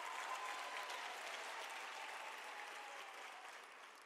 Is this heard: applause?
yes